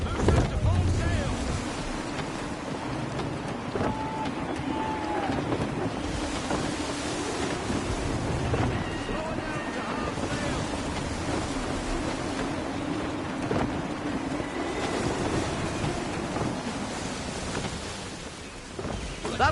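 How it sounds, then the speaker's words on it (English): Gusty wind and ocean waves roll past a sailing ship in Assassin's Creed III, a steady broadband roar with surging swells that stays loud and continuous throughout, with no speech over it. "Gusty winds can be difficult to manage."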